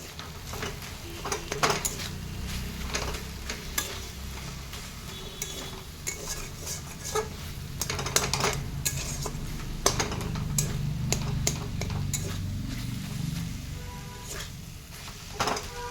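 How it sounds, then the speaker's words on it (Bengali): Metal spatula pressing and mashing cooked red leafy greens (red amaranth, lal shak) in a pan, giving a run of soft scraping, clicking taps against the pan over a faint sizzle, steady and close. "আর এইভাবে খুন্তির সাহায্যে চেপে চেপে একটু মাখো মাখো করে নিব শাকটা।"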